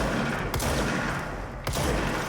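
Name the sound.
enemy gunfire in the video game Control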